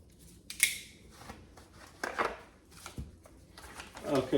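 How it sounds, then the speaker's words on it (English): A few sharp snips from the small scissors of a multi-tool trimming a wood stove door gasket, with rustling handling sounds between them, close up and fairly quiet. "trying to cut it close using the scissors on my multi-tool"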